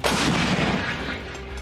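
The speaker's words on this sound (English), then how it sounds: "howitzer artillery cannons" Howitzer artillery cannon firing, a loud, heavy blast that rolls on as a sustained roar for over a second, with no voices.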